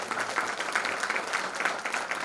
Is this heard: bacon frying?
no